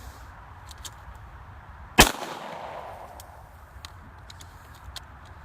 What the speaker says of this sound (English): I'm just going to fire a few rounds and then go off the stopwatch.